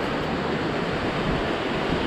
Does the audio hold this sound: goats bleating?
no